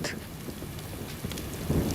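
Rain falls on a deserted road at night, a dense, steady hiss of drops with a low rumble building near the end, heard alone.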